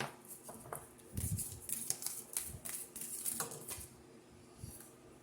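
Tarot cards are shuffled by hand in quick, crisp bursts of riffling and flicking, close by and fairly quiet, with short pauses between the bursts.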